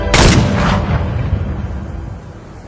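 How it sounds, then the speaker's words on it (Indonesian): A single loud gunshot cracks sharply, then a long rumbling echo slowly fades away. "Dan tiba-tiba suara tembakan mengejutkan Hae-jo."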